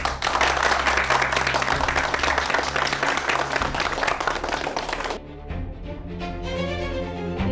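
Villagers applaud in a rough, sustained burst of clapping that holds loud for several seconds, then gives way to quieter background music.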